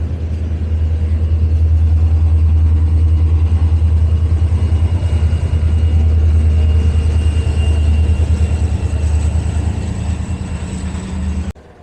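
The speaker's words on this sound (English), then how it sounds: "Must be some kind of maintenance train." A rail maintenance train hauling rails rolls past, giving a loud, sustained low rumble of engine and wheels that holds steady for several seconds, then cuts off abruptly at the end.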